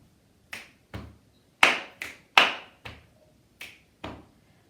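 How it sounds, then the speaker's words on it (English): Body percussion sequence of claps, chest taps and finger clicks, eight crisp, close hits in a steady pattern with short silences between, some sharper and louder than others, no talking. "it's just a clap, chest, click, chest, twice"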